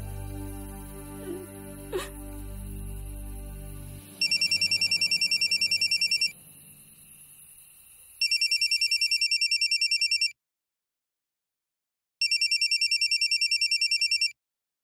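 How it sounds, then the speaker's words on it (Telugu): A telephone rings for an incoming call, sounding in three loud, steady bursts of about two seconds each with brief silent gaps between them, following a quieter stretch of low background sound. "ప్రొడ్యూసర్ నుంచి ఫోన్ వస్తుంది"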